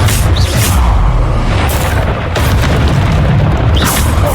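In Hogwarts Legacy, a Bombarda spell goes off as a loud, booming game blast with a deep rumble, and a second burst follows near the end.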